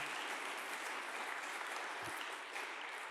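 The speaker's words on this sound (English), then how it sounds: "Can we hear a round of applause for that?" A church congregation claps together during a Sunday service, a dense, even wash of applause that holds steady throughout, fairly quiet and without any voices over it.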